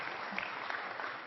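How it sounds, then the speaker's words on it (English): Faint, muted applause ripples through the audience at a Christopher Hitchens talk in Seattle, a brief, soft patter of clapping heard from a distance. "Muted applause for that."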